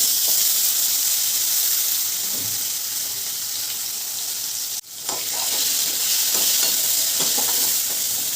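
Cut pumpkin pieces cooking in a sambar pan with turmeric, sizzling loudly in a steady bright hiss, broken by a brief drop near the middle, then resuming with scattered stirring clinks and pops.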